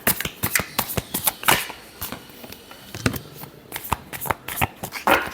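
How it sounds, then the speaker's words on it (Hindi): Tarot cards being shuffled by hand make a close, crisp run of rapid riffling flicks and slaps in irregular bursts, with no talking. "Last shuffle."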